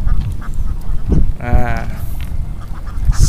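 Ducks from a flock of about 150 raised on a military shooting range in Indonesia quack in a brief burst amid loud wind and outdoor rumble, with a voice briefly heard.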